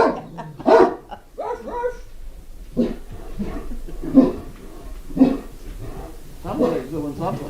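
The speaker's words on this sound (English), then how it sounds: "What are you guys barking at?" Dogs bark repeatedly in scattered bursts, fairly close, while a person talks in between and over the barking.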